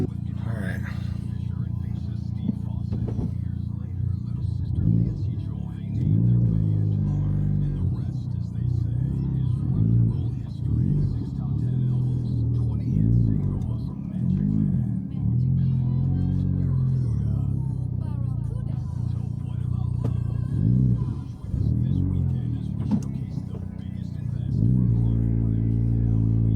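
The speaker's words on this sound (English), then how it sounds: "Oh, I can hear that exhaust." A 2023 Honda Civic Type R idles and revs with a low droning exhaust rumble that swells and falls throughout, while a person talks over it from inside the car.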